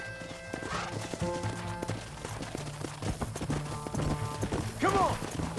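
Horses gallop in Red Dead Redemption, rapid hoofbeats pounding under game music, a clear neigh near the end, with brief shouted voices mixed in.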